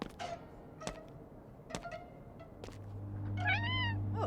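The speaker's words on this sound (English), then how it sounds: "Oh, look, another cat." A cat meows twice in an indie horror video game, with a rising, drawn-out meow near the end over a low droning tone and a few sharp ticks, fairly close and clear.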